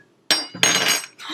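Glasses clinking together in a toast in a home kitchen, two quick bright clinks close up, the second ringing a little longer, with no talk over them.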